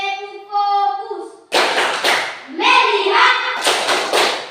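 In a school classroom, children chant together in the rhythmic clapping game tepuk fokus, and two short bursts of group hand clapping answer each chanted phrase.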